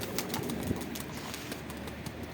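Birds in a loft, with soft fluttering and faint cooing against a steady background hiss; no talking.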